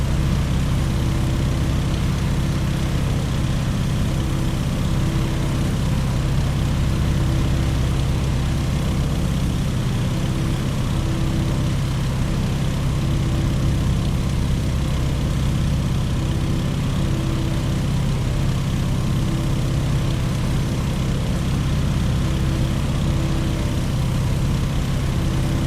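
A Stearman biplane's propeller engine in Microsoft Flight drones steadily and loudly throughout, a continuous low rumble with no talk.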